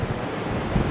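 Strong coastal wind and rough surf at a rocky bay in bad weather, a loud, continuous roar with heavy wind buffeting on the microphone and low rumbling wash, no voices.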